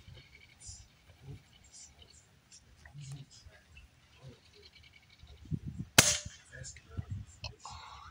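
Pellet gun firing during a rowdy outdoor session, one sharp loud crack near the middle, with softer pops and handling noises around it and people talking quietly in the background.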